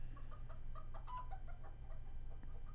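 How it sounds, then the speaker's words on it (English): Three pet chickens cluck softly in short, scattered bursts. The clucking is faint and sits over a steady low background hum, with no voices. "What's that noise? Our chickens."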